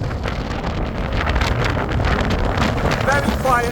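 Strong wind on a windy morning in the Pennines buffets the microphone beside a camper van, a loud, continuous roaring rumble with gusty swells and no let-up.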